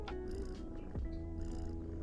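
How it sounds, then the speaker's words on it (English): Video game cat purring steadily at a low, soft level, a continuous rumbling purr with no talking. "I can stop the cat from purring too."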